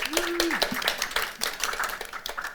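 Conference attendees clap for Muriel in a brief round of applause, sharp separate claps over a busy hall murmur, with a gliding voiced tone sounding near the start.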